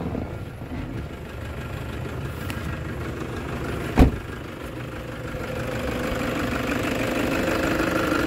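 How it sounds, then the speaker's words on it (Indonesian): A Toyota Hilux Vigo diesel engine idles steadily with an even, smooth rumble and a single brief knock partway through, loud and close throughout. "kita lanjut untuk mendengarkan suara mesinnya"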